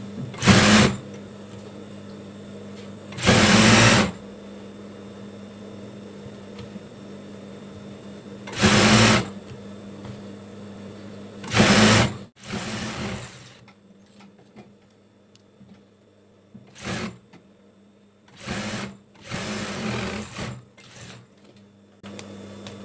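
A sewing machine locks the edges of a baby blanket in short, loud bursts of rapid stitching, separated by quiet pauses, with a few briefer spurts toward the end.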